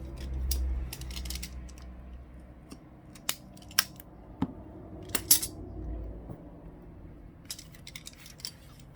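Scissors snip material along an edge during an LCD screen replacement on a Motorola G7 Power, giving a series of sharp, close clicks and cuts at irregular intervals over low handling noise.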